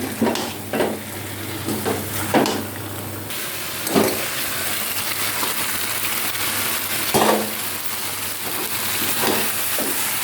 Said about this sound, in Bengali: এবার আলুগুলো দিয়ে দিলাম এবার আলুগুলো এর সঙ্গে ভালো করে কষবো